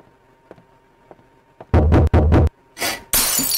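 Glass breaking and shattering in the horror game Emily Wants to Play: after faint ticks, loud crashing bursts of breaking glass, then bright scattering shards, close and with no talk over them.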